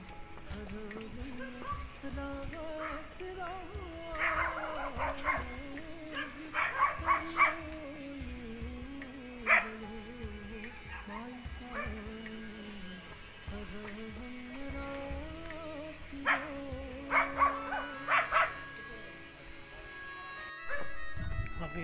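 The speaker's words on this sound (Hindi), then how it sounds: "अभी यहाँ कुत्ते हैं, अगर कुत्तू ने काटा तो" Dogs bark and yip in scattered outdoor bursts on an evening walk, moderately close, with several clustered barks. Background voices and ambient noise fill the gaps between them.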